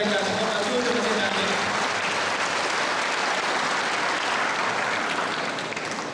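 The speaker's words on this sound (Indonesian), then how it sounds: "Beri tepukan kepada mereka semua" Dense, steady applause from a crowd at an Irau Easter celebration in the village of Long Bemang fills the whole stretch, with a voice briefly heard over it at the start before the clapping tapers slightly.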